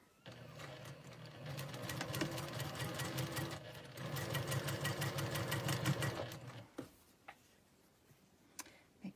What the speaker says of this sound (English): we're just going to go down the line, sew all 3 squares together